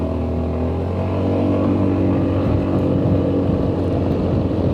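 A new Honda ADV 350 motor scooter being ridden gently during break-in, a steady close engine drone with road and wind rumble, engine note rising slightly partway through and holding even.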